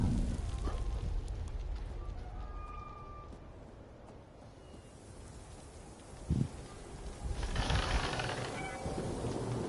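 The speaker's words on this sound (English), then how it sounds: "What are you doing, kitty cat?" A cat meows a few times, faint and brief against a steady background hiss with a louder noisy burst near the end.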